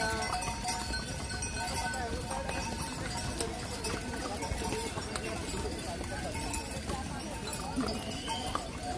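Hooves of donkeys, mules and horses clop steadily along the rough Kedarnath pilgrimage trek path in cold mountain air, a dense busy patter with voices and trail noise mixed in throughout.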